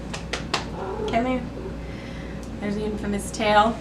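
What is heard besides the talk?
cat meowing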